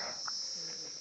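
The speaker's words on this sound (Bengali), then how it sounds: "এই সকালবেলা এত সুন্দর ঝিঝি পোকার ডাক" Crickets chirp in a steady, high continuous trill on a cold early morning along a hilly mountain path in Pelling, with faint soft background noise and no voices.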